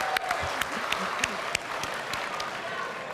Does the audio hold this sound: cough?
no